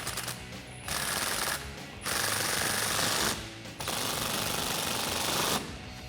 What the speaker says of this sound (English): I'm using an Allen socket. I'm going to go ahead and tighten those down.